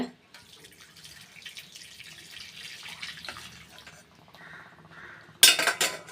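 Jaggery syrup strained into a pot of fenugreek kali, with a steady trickling pour and light utensil clinks, ending in a louder scraping clatter near the microphone.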